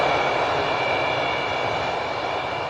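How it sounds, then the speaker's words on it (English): An aircraft engine drones loud and steady at close range, a continuous unbroken roar with a faint tonal whine on top and no voices. "Just enjoy the aircraft."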